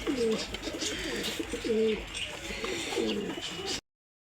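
Several pigeons cooing close by in soft repeated rolling calls, over light background noise, then sudden silence at the end.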